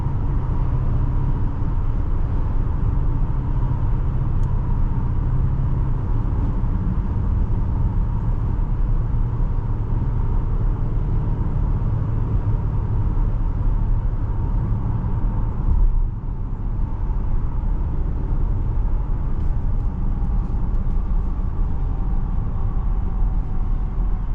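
A 2026 Infiniti QX60 is on a test drive, with a loud, steady low drone of engine and road noise filling the cabin throughout and no talk.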